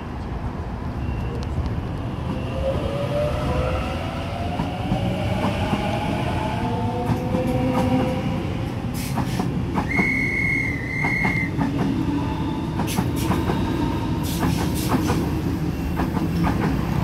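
A Sydney train passes through Milsons Point station with a continuous rumble and clickety-clack of wheels, a brief high squeal or tone partway through, and faint platform announcements over the noise.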